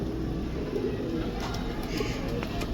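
Domestic fancy pigeons, including a pair linked to a French breed, coo softly and steadily at close range, with low murmuring calls repeating over a faint background hiss.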